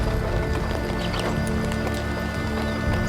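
Horses pulling a cart at a brisk walk, hooves clip-clopping in a steady, continuous rhythm with harness and wheel noise filling the background.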